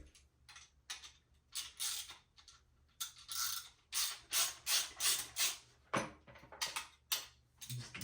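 A ratchet clicks in quick repeated bursts while the bottom bolt of a motorcycle's rear 190mm shock is loosened, close and fairly quiet with short pauses between strokes.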